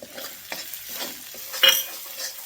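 Onion-green dumplings with coconut and cinnamon paste are stir-fried in a pan, giving soft scraping stirs under a light sizzle and one brief metallic clink near the middle, with no one speaking.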